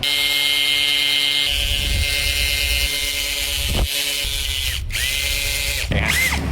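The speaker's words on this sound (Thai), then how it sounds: "เราใช้ดอกคาบายเจาะแล้วมีการกระแทกนิดหน่อย" A hammer drill with a carbide bit whines and rattles as it bores with light hammering, with brief pauses and restarts, the motor pitch shifting between bursts; close and loud.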